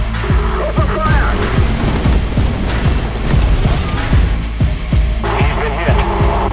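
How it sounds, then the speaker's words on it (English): Rapid bursts of aircraft machine gun fire in War Thunder, loud and continuous, layered over a droning engine with booming impacts and a voice calling out. "Open fire!"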